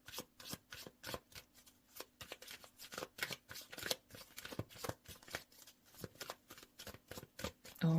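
A deck of cards is shuffled over and over, giving quick riffling bursts and soft slaps in a steady rhythm, close and fairly quiet.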